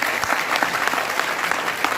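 Steady audience applause fills a large indoor program hall in Kolkata, dense clapping from many hands at a constant level without any voices.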